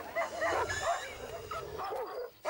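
A dog whimpers and yelps in pain after a spitting cobra sprays venom into its eyes, a run of close, high, wavering cries with short gaps in between.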